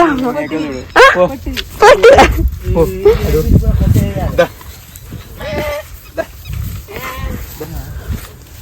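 A goat bleats near the start on a farm by the fields, then people talk and more animal calls break in sporadically, loud and close.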